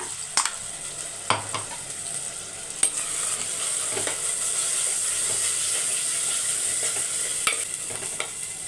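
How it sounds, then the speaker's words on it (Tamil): Tomatoes sauté in a hot pan with a steady, loud sizzle and hiss, broken by a few clinks and scrapes of stirring. "இப்போ தக்காளி வதங்கட்டும்"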